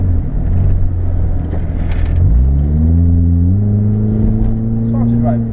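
A car accelerates hard with engine note rising in pitch through the gears, loud and close, with a voice talking over it at moments.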